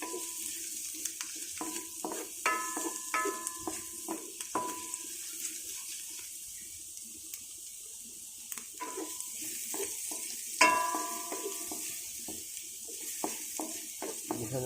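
Garlic fries in a pan with a soft, faint sizzle punctuated by scattered clicks and scrapes of stirring, one sharper clatter midway, and no talking.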